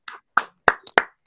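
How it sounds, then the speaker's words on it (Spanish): A single person claps slowly and sharply, about five distinct claps spaced unevenly, close and dry, during a Chilean football talk show. "Gracias por los aplausos"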